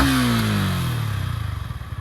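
A second-hand motorcycle engine revs at half throttle, close up, its pitch falling steadily from a smooth drone into a loose, pulsing idle-like throb with a faint clattery edge over two seconds.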